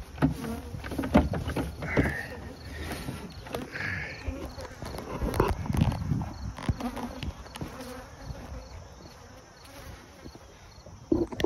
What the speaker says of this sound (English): Bees are buzzing me.